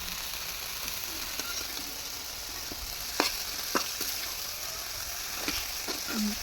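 Food sautéed in a pan in a home kitchen gives a steady, fairly quiet sizzle, broken by a few sharp scrapes and clinks of a utensil against the pan.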